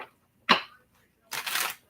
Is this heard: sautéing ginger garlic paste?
no